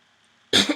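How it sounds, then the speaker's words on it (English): A single sharp, loud cough bursts out suddenly after a quiet moment, close to the listener. "Sorry for all the coughing, too."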